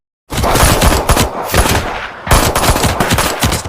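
Loud, rapid bursts of automatic gunfire in two long volleys separated by a short lull, close and harsh.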